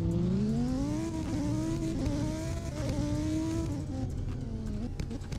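Lamborghini driven on a highway in Roblox, engine note climbing through gears then easing off as it slows, a steady close motor drone with faint tire noise and no talk.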